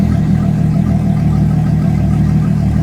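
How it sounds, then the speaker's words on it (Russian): A Yamaha F200 outboard motor runs with its gearbox removed, giving a steady, loud mid-pitched engine drone with a firm low hum that holds even throughout, close up and with no talk. "запустили мотор без редуктора."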